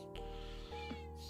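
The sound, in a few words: cat meowing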